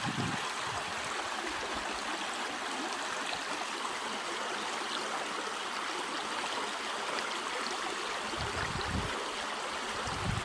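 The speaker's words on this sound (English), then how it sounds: "We made it across the raging river." Red Creek runs high with snowmelt over rocks in a wintry Appalachian alpine setting, a steady close rush of flowing water with broadband splashing and no voices.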